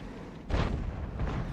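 An SU-14-2 self-propelled artillery gun fires a single heavy boom in World of Tanks, a sudden loud blast that rolls off into a brief rumbling tail.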